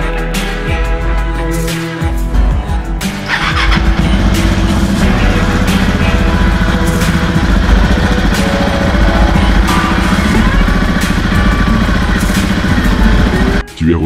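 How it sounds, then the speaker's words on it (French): A KTM 690 SMC R single-cylinder motorcycle engine, restarted after a spring oil change, runs loud and close with a steady, throbbing idle that holds for several seconds before cutting off abruptly at the end. "tu remets le moteur en marche pendant 1 ou 2 minutes"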